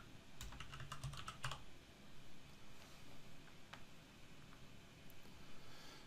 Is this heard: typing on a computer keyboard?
yes